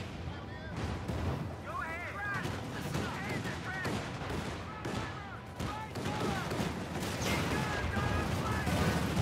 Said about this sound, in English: The mortar spam does get him in the end.